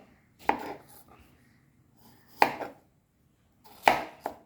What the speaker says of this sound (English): So we will chop this and start our salads.